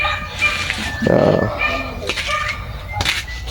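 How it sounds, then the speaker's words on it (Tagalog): A dog yips and whimpers in short bursts while people talk nearby and children's voices sound in the background. "Ito, makulit tong aso na to eh"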